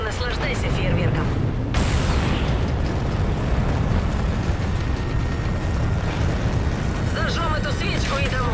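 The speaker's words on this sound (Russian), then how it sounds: "Давайте поглядим, как взорвется эта башня." Explosions and heavy blasts as a tower is blown up in Call of Duty: Infinite Warfare, a loud continuous roar of booms and rumble with a sharp burst near two seconds, voices talking over it.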